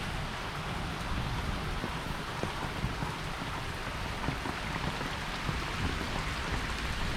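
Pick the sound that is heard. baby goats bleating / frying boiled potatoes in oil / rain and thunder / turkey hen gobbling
rain and thunder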